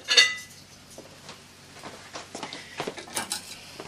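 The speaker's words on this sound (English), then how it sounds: "I'm going to get my tongs." Metal kitchen tongs are picked up, giving a few faint clinks and light metallic taps near the listener in an otherwise quiet kitchen.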